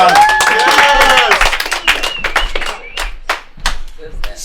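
A live comedy show audience applauds a comedian leaving the stage, with a burst of clapping and vocal cheering at first, then thinning, uneven claps that fade toward the end.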